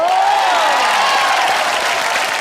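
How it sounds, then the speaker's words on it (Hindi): Studio audience on a TV comedy show applauding the Ghayal Once Again team: loud, sustained, dense clapping with some cheering, filling the whole stretch without talk over it. "घायल वंस अगेन के लिए जोरदार तालियां हो जाए"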